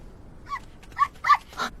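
A dog gives four short, fairly close barks in quick succession, the middle two the strongest, against a quiet background.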